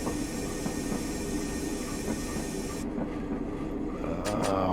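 A Class 101 diesel multiple unit runs along rails on the Wearhead to Durham route in Train Simulator Classic, giving a steady, continuous rumble with faint rhythmic wheel clicks and no talk.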